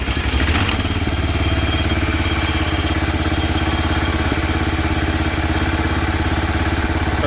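A John Deere 300 garden tractor engine runs at a steady, loud idle nearby, with a constant throbbing rumble and light mechanical clatter and no talking over it.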